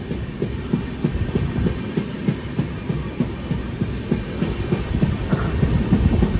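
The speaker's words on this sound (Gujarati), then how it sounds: "હવે ટ્રેને સ્પીડ પકડી છે" A passenger train runs at speed on a foggy night, heard from on board as a continuous rumble with a steady, rapid clickety-clack of wheels over rail joints that grows slightly louder.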